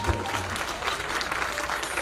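A church congregation claps in praise together, dense steady applause from many hands filling the room at close range throughout.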